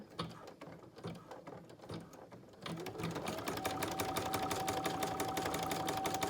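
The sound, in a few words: Brother PE770 embroidery machine stitching a mask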